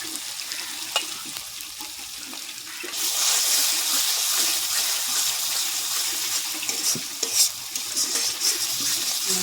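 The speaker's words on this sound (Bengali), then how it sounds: "ভালো করে কষিয়ে নেব" Masala paste of ground melon seeds and cashews is sautéed in oil for rui fish kalia, first with soft scraping stirs, then a louder, sustained sizzle and hiss with intermittent stirring clacks.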